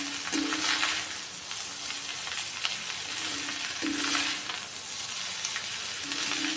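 Spring onions frying in a pan of mushroom fried rice while being stirred: a steady, close sizzle with a soft crackle that rises and falls, joined by brief scraping strokes from the stirring.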